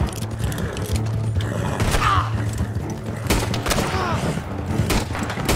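Gunfire in the Western video game Red Dead Online: a rapid run of sharp, close gunshots and thuds, bursts of fire repeating over several seconds.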